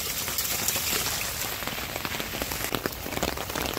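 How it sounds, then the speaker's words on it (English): Rainwater rushes into a yard drainage system feeding a half-horsepower Zoeller sewage pump, a steady hissing, splattering wash with dense droplet patter throughout and no talking. "Look at how fast that water's going down."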